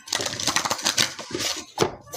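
A deck of tarot cards is shuffled by hand in quick, close, papery riffles that crackle in uneven bursts for about two seconds.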